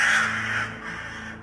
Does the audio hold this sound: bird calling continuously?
yes